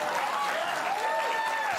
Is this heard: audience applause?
yes